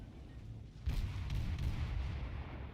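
A deep naval gun salvo booms from a German cruiser, the KMS Kolberg, in the World of Warships naval battle game, a muffled low blast rising out of steady background rumble.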